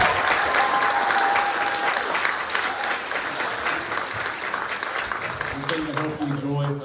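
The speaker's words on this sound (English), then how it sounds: "let's just give these wonderful fifth graders a round of applause." A crowd at a fifth-grade band concert claps loudly and steadily for several seconds, the applause thinning near the end as a voice begins speaking.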